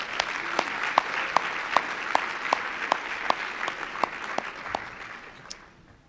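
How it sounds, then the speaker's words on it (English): Guests at a 2015 church stewardship luncheon clap for the catering staff, a moderate round of applause with distinct individual claps standing out, fading away near the end. "How about a round of applause for them too?"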